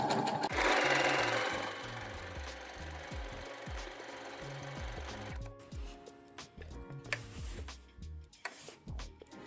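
A sewing machine runs an overcast zigzag stitch with rapid mechanical ticking and clattering, loud at first and then continuing more quietly in uneven bursts and pauses.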